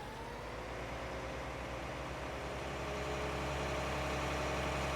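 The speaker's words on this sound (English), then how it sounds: "Loud tractor." Case 9380 tractor engine idling in a modded farming game, a loud, steady low diesel drone with a slight rise in level toward the end, alone and close.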